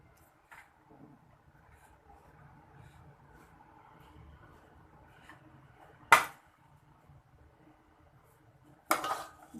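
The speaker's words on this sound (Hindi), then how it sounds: "मैं इसमें बड़ी सी ट्रे में डिश आउट कर रही हूँ। पहले मैं राइस डालूंगी इस तरह।" A serving spoon scrapes and clinks against a large tray as rice is dished out for pulao, two sharp metallic knocks standing out over faint kitchen background with no talk.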